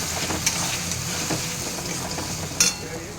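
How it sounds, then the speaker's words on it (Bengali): Ground ginger, garlic, onion and green chili masala fries in a pan for a katla fish curry, giving a steady close sizzle with soft stirring and a couple of sharp utensil clinks against the pan. "এবার আমি এই মশলাটা দিয়ে দেবো।"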